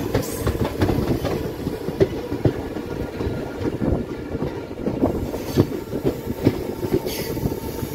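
A train arrives at a platform at Vadodara, rumbling and clattering along the rails with rhythmic clicks and thumps, a steady mechanical roar under gusts of wind.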